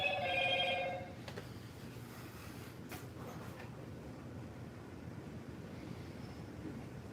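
A phone notification chime, a short bright multi-tone ringing that sounds once for about a second at the start, then gives way to steady low background rumble.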